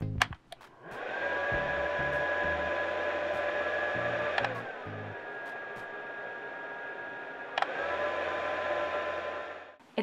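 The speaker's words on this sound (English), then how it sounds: "once plugged in and turned on, the Handy Heater does make a noise which sounds very much like a fan." A Handy Heater space heater running steadily with a fan-like whooshing hum, moderately loud and close, with a couple of brief clicks and a short dip in the drone midway.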